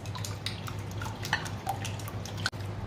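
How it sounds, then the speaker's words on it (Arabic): Four eggs with black pepper and salt are whisked in a bowl, giving faint, quick clicking taps and light liquid sloshing against a low background hum. "معانا ضربنا البيض"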